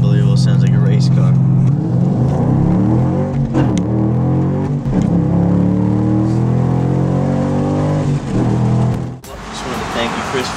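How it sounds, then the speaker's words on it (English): A 2011 Ford Mustang fitted with a MagnaFlow exhaust revs up, its engine note climbing and settling in a throaty, racing-style tone, while someone talks over much of it before a brief drop-off near the end. "as soon as you build the revs up, this thing sounds unbelievable. Sounds like a race car."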